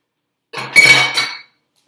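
A short burst of clinking and scraping as raisins are stirred into oatmeal cookie dough in a bowl, a utensil knocking against the dish for about a second, close and alone.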